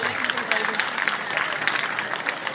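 Steady applause at a school function, dense clapping throughout, fairly close and even in loudness, with no pauses.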